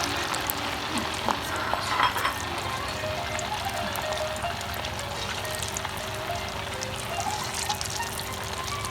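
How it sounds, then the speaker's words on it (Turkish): Continuous bubbling sizzle of stuffed meatballs (içli köfte) frying in olive oil, fairly close, with a couple of light clinks early on and no talk. "içli köfteyi zeytinyağına koyup güzelce ne kızartacağız."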